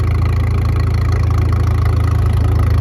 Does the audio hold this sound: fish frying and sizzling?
no